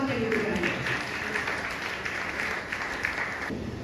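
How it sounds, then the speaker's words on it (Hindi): A church congregation applauds in praise, a dense steady patter of many hands clapping throughout, with a voice speaking over it. "आज जोरदार तालियां उसके जलाल के लिए बजाएं"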